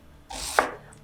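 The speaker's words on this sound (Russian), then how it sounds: "Лук мелко нарезаем." A single knife stroke cuts through onion on a board, a short, close, quiet swish ending in one crisp tap.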